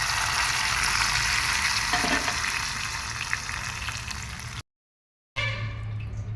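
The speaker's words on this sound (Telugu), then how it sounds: "ఇప్పుడు ఈ తాలింపుని ఈ పప్పులో వేసేసుకుందాము." Hot tempering poured into cooked dal made with punarnava leaves, giving a loud, steady sizzle and bubbling that runs for several seconds, breaks off briefly, then resumes more quietly.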